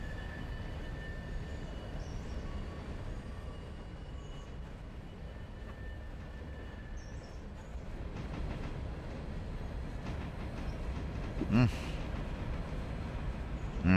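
A train in the Railroader game rumbles steadily over the track, a low continuous roll with faint wheel squeal, a clank near the end, and a steady drone throughout.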